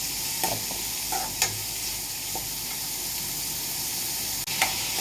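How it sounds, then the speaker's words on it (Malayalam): Sliced onions sauté in coconut oil, frying with a steady close sizzle as a spatula stirs them in several scraping strokes through the hiss. "ലേശം വെളിച്ചെണ്ണ ഒഴിച്ച് ബാക്കി നമ്മൾ ഈ സവാള ഇട്ട് കൊടുക്കുന്നുണ്ട്"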